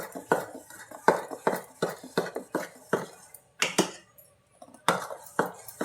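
A spoon mixes vadi batter with crushed chili and salt in a bowl, scraping and clinking against the side in a steady close rhythm of repeated strokes, broken once by a short pause.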